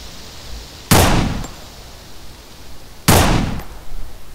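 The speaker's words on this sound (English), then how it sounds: "Oh, they're shooting back." Two loud, close gunshot blasts, about two seconds apart, from return fire in a video game firefight, each a sharp crack followed by a short decaying tail, with no talking.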